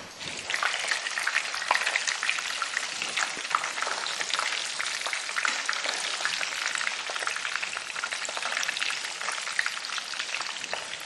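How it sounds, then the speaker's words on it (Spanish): Battered hake fries in a pan of hot oil, giving a steady, dense sizzle with crackling pops that holds at an even level for the whole stretch, with no talking. "No, se va friendo, pero no se nos va a quemar el rebozado."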